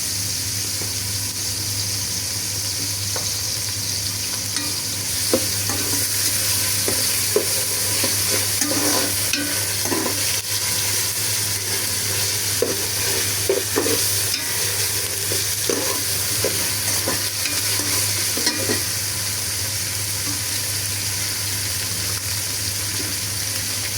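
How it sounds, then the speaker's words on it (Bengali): Ginger-garlic paste fries with onions in a pan, giving a loud, steady sizzle broken by repeated scraping of a spoon stirring, with no talking. "তো আমার পেঁয়াজটা ভাজা হয়ে গেলে এখানে আমি 1 চামচ পরিমাণে আদা রসুন দিয়ে দিব"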